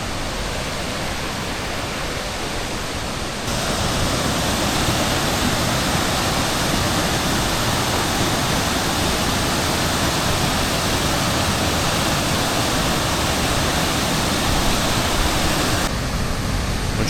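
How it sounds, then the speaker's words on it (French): A steady, dense roar of Minoh Falls in Japan fills the scene at close range, broadband and unbroken, with no voices. "La cascade, ouais."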